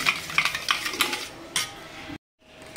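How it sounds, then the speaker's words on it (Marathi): Yogurt with sugar for boondi raita is beaten in a bowl, giving a quick run of close clinking, tapping strokes that thin out before a brief cut to silence. "छान फेटून घ्यायचं"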